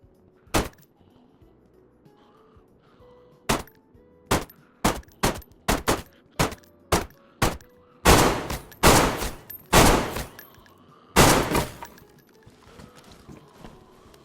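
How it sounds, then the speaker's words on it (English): Gunshots in DayZ hitting a base's framework and panels: a single shot, a pause, then a rapid string of evenly spaced sharp cracks, followed by several heavier, longer bursts, loud and close with no talk. "shooting the framework whenever you can saves you a lot of bullets and saves you a lot of time"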